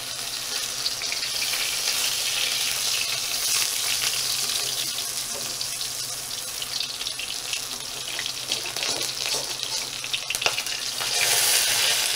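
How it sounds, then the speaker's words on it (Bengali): Pumpkin flower fritters crackle and spatter in very hot oil, a loud, dense, close hiss that holds steady for the whole stretch and swells slightly at the end. "তেলটা অনেকটা গরম হয়ে গেছে, যার জন্য এত চটপটে করছে।"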